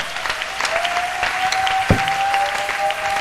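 A church congregation at a prayer retreat applauds, a dense wash of many hands clapping at once that stays steady for a few seconds, with a sustained tone and a sharp thump partway through.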